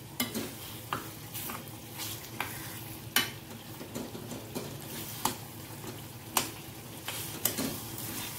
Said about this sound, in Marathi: त्यात आलू ऍड करायचे आणि आलू मस्त भाजून घ्यायचे